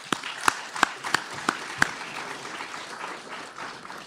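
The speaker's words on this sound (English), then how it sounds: "I think that deserves a bit of a round of applause." At an economic forum opening ceremony, a few audience members give six sharp, evenly spaced claps in quick succession, then the sound fades into low room murmur.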